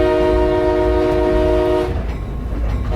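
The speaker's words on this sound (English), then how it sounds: "Klein and photojournalist Nicholas Anderson spent a day riding a train in Minneapolis to bring us the perspective of a train engineer in this local image story." A train running through Minneapolis sounds its horn in a loud, steady multi-tone blast that cuts off near the end, leaving the heavy rumble of the moving train underneath.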